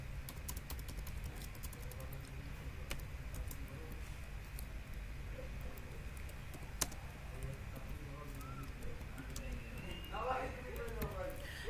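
Soft, rapid clicks of typing on a computer keyboard run steadily at low volume, with a voice talking over them.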